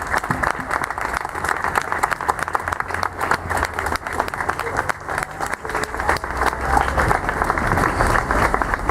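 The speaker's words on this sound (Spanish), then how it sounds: "le voy a pedir un fuerte aplauso también a Walter Bulacio" A crowd at a live music event in Boedo applauds steadily, with dense, loud clapping and some crowd noise sustained for about nine seconds without letup.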